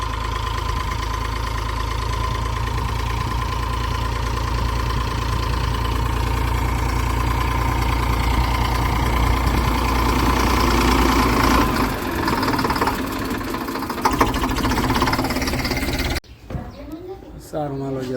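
A tractor engine idles steadily on a farm field in Rapar, a low continuous rumble that runs for most of the stretch before cutting off near the end, with some background voices.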